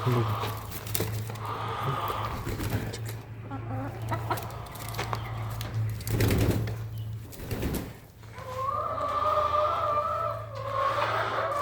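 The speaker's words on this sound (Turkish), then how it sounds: "Yumurtaların başında tavuklar" Hens cluck and croon close by in a coop, several birds calling over one another, with a person talking at times in between.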